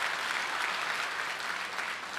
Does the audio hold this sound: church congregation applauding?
yes